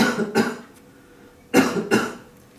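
A patient coughs during a chest examination: two short coughs, a pause, then two more, close and dry in a quiet room.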